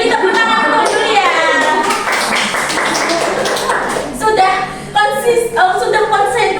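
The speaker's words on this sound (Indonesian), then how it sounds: "Beri tepuk tangan untuk Julia." A classroom of students clapping for a classmate, with brisk scattered applause from close by mixed with children's voices and chatter throughout.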